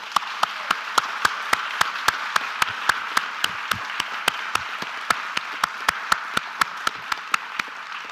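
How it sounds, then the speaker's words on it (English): Audience at a police awards meeting giving a round of applause for a leadership award recipient: sparse, evenly spaced loud claps from one nearby person over a softer continuous patter of clapping from the rest of the room. "acknowledge the Lawrence Johnson Leadership Award recipient with a round of applause."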